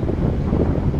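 Strong wind at Abra de Ilog port in Occidental Mindoro, a dense, continuous rumble of gusts battering the microphone with no pauses.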